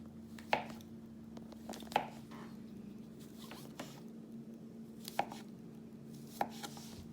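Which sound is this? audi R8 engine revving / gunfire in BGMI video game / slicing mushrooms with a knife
slicing mushrooms with a knife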